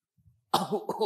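A single sharp, close cough bursts out after a faint breathy rustle and trails into a second rough hack.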